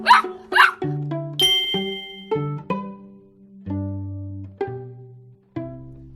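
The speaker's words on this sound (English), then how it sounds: "Tap the puppy to hear it bark." A puppy barks in a series of bright, clear yips and woofs, close and loud, with short gaps between, alongside tuneful chime-like tones.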